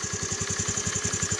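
A motorcycle engine struggles along after water got into it and its air filter, idling with a rapid, steady low chug of pulses, loud and close, with no one speaking.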